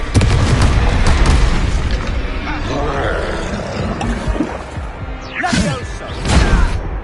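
Confringo blasting spells going off in the Hogwarts Legacy video game, heavy booming bursts amid combat noise, with a loud opening stretch and further blasts near the end, voices and battle sounds mixed in.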